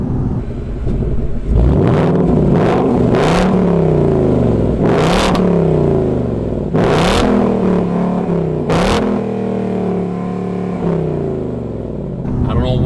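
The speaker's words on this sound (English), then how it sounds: "This car is surprisingly good sounding for a 2021 car with a V8." A 2021 Ford Mustang GT V8 revs hard in neutral in several sharp bursts, each climbing to a soft limiter and falling back to a rumbling idle, loud and close.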